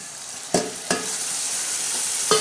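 Green chili usal frying in a pan, stirred with a spoon: three distinct scraping strokes over a steady hiss of sizzling oil, close and clear with no voices.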